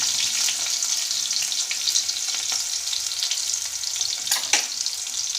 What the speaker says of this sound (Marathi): लसूणचा रंग लाल होईपर्यंत थोडंसं हलवायचं त्याला